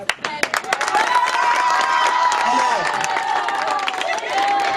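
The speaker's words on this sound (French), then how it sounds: "L'applaudissement des enfants confirme un peu la réponse" Children applauding at a Christmas celebration at an SOS children's village, a dense burst of claps starting sharply then settling into continuous clapping and crowd noise, close, with voices and babble mixed in.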